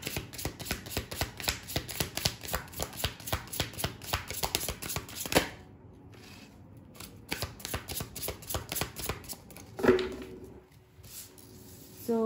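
Rapid riffling and shuffling of tarot cards, a dense run of soft crisp flicks for several seconds, then quieter handling and a brief slap of cards.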